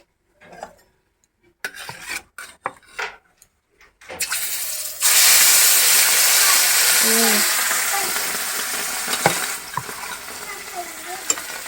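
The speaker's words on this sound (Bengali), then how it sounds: "মাছগুলোয় নুন হলুদ লঙ্কার গুঁড়ো মেশানো হয়ে গেছে এবারে চলো একে একে ভেজে নিয়ে রান্নাটা করে নিই" Pieces of fish coated in salt, turmeric and chili powder drop into hot oil after a few soft kitchen clatters, setting off a loud, steady sizzle that continues with faint clinks and gradually softens.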